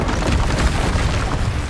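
The Incendio fire spell is cast in Hogwarts Legacy: a loud, dense, rumbling boom of magical fire that carries through the whole short moment without a break.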